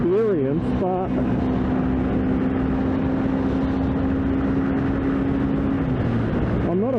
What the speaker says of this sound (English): I'm not afraid of riding this bike on the freeway, even though it is just a 125